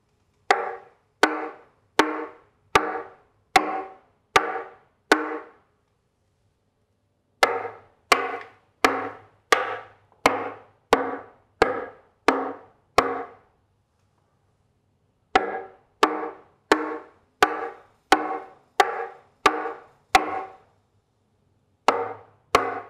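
A hammer tapping pieces of electric guitar body wood, sharp dry knocks in three quick bursts of about seven taps each, each strike ringing briefly, close and alone with pauses between sets.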